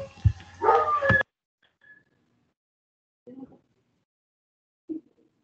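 Dogs bark in a short excited burst mixed with a voice, then a couple of faint, brief yips follow after a pause of near silence.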